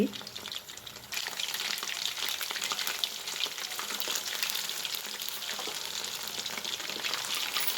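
Chillies fry in a pan of hot oil with a steady, dense crackling sizzle that jumps louder after the first second and holds close and continuous, with occasional stirring and no talk.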